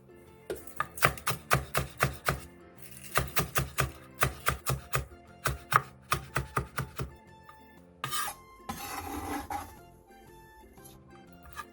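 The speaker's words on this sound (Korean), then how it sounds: "청양고추 2개, 홍고추 1개, 대파 2분의 1개를 쫑쫑 썰어주세요." A knife chops Cheongyang chili peppers, red chili and half a green onion on a cutting board in quick, regular bursts of sharp taps, close and clear, then a short scraping, rustling stretch near the end.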